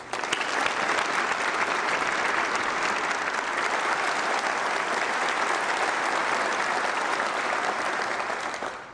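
A large audience gives steady, sustained applause for the Coast Guard Academy Singers at a 2012 veterans event, dense clapping holding at an even level for nearly nine seconds before tapering at the end.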